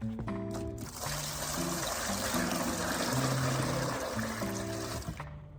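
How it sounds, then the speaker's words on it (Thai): Water is poured steadily onto coconut coir, a continuous splashing trickle with background music playing throughout. "เอาขุยมะพร้าวใส่เลยนะคะ แล้วก็ เทน้ำใส่ไปนะคะ"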